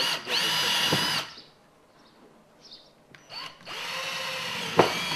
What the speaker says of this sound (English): Drill a series of holes around the edge of the cutout